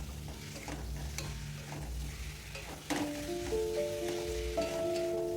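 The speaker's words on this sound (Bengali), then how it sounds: "সুন্দর করে ডিম আলু মশলা একসাথে কষিয়ে নেব।" Eggs, fried potatoes and spices are stirred and sautéed in a pan, producing a soft continuous sizzle with scraping stirs, fairly quiet, as a sustained musical tone rises in the background.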